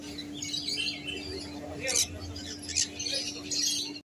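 Caged birds chirp at a Sunday bird fair in Serampore, with short, high tweets in scattered bursts over a low, steady background hum and faint crowd murmur.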